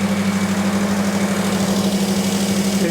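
A Ford Mustang engine idles steadily close by, a constant low hum with an even pulsing rumble and no voices.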